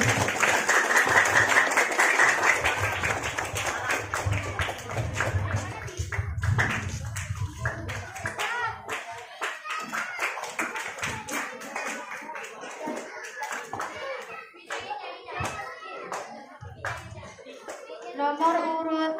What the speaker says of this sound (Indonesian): Beri tepuk tangan yang meriah untuk Adik Aisyah Nurul Ramadhani.